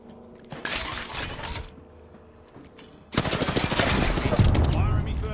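Apex Legends gunfire rattles out as a sustained burst of rapid automatic shots, loud and close, after a quieter stretch with a few scattered sounds and faint game noise.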